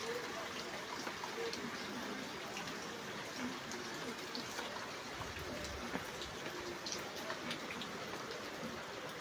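Rain falls steadily outdoors by a shop where a man keeps working, a constant hiss of drops on surfaces with faint background voices underneath.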